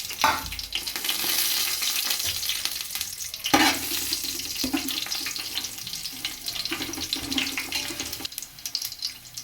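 Whole cinnamon and cloves frying in hot oil in a pot for beef biryani, a steady close sizzle with occasional clinks and stirring scrapes, no voices.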